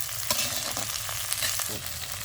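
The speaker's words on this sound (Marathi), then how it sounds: "जिरं मोहरी टाकली की गवारी तेला जरा अशी हलवून घ्यायची" Cluster beans tossed into hot oil with crackling mustard seeds and cumin sizzle steadily close up, with a few sharp scrapes of a spoon stirring the pan and no talking.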